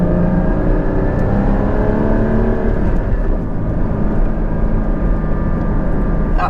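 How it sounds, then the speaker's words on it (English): A Porsche Cayman GT4 sports car on a winding canyon road, its engine and exhaust droning loudly and steadily throughout, a close sustained roar with rising harmonic tones as it pulls. "Oh, love that exhaust."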